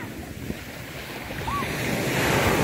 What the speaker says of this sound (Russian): И посмотрите, какая волна разыгралась.